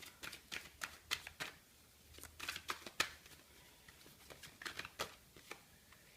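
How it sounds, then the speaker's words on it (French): Oracle cards are shuffled and drawn by hand, quiet close flicks and riffles in uneven clusters of crisp taps and papery slides. "Hop, je vais tirer ma petite carte de fin"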